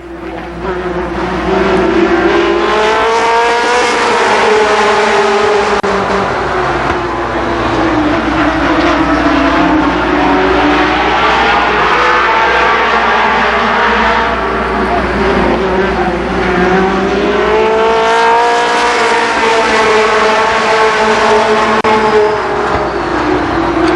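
Super late model race cars circle Columbus Motor Speedway in a loud, continuous roar, with engine pitches rising and falling as the field passes, while an announcer talks over the racing.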